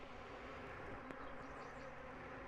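Honeybees buzzing around a queen cage during a hive split, a faint, continuous droning hum with no other sounds.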